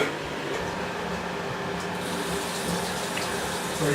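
Steady running water pours from a tap into a sink, a continuous hissing splash with no pauses.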